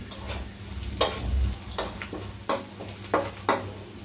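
Onion frying softly in a pan for a jute leaf curry makes a low, close sizzle, punctuated by sharp clinks of a utensil stirring against the pan at irregular intervals.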